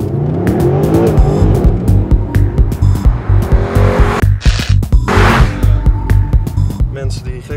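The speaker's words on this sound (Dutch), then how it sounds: "is een SLS AMG" A Mercedes-Benz SLS AMG sports car drives hard, its engine roaring and revving loudly with repeated gear changes, while sharp bursts of tire squeal cut through the engine noise.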